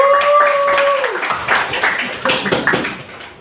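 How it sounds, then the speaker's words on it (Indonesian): Classroom clapping for a student group in an Indonesian history teaching practice lesson, a scattering of separate claps starting after a brief tone and fading out toward the end. "Beri dulu tepuk tangan untuk kelompok 3."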